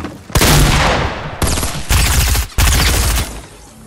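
Loud, close SMG gunfire in Fortnite, fired in four sustained rapid bursts of about a second each with brief gaps between them.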